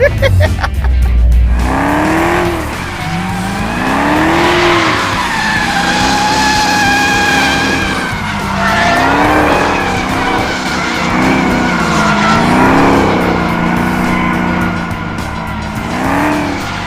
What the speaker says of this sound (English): to finish off the week with burnouts and drifting